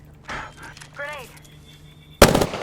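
In the Apex Legends video game, a sharp, loud grenade blast bursts suddenly after some voice chatter and game sounds.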